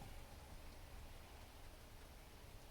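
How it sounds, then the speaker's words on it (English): Steady rain falls outside in a continuous soft hiss of even, diffuse texture, with no voices and no distinct drops standing out above the wash. "It's raining. I like rain. Yeah, Rain is peaceful."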